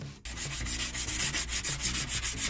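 Someone sanding a light oak tabletop fitted onto a piece of furniture, a steady close-up rasping rub with a rhythmic back-and-forth pulse after a brief pause at the start.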